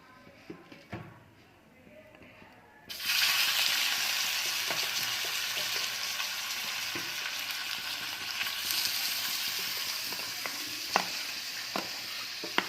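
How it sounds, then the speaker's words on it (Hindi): Food being reheated in ghee, starting quiet with a few clicks before a loud sizzle suddenly erupts and holds steady, close up, with occasional sharp taps of a utensil against the pan. "दिया घी, इसी में गरम कर दूँगी मैं।"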